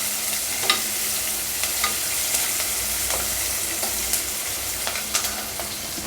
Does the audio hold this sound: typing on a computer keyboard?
no